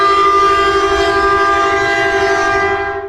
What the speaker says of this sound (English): hear that crazy horn